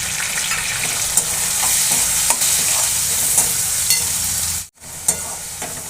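Green chillies and chopped tomato sizzle and fry in a pan while being stirred, a steady close crackle with scraping strokes and a brief pause near the end.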